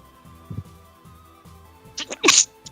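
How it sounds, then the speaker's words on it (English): A single sharp human sneeze bursts out near the end, a brief loud explosive breath preceded by a short inhale, following quieter indoor background with a faint low thump earlier. "Why do I sneeze?"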